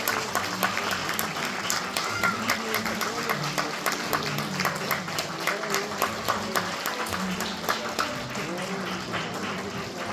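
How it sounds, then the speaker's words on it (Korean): Sustained applause from a wedding audience, steady clapping throughout with some voices mixed in, filling a large room. "다시 한번 박수 박수 부탁드릴게요"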